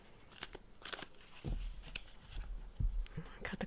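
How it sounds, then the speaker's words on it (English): Tarot cards being shuffled by hand, soft riffling and papery rustles with a few thumps of the deck, close but quiet. "I'm going to go ahead and shuffle just a little bit more"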